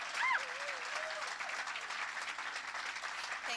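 Audience applause at an awards ceremony stage, a dense, even patter of clapping that carries on at a steady level, with a brief whistle-like tone near the start.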